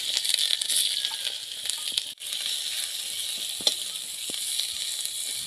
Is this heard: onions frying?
yes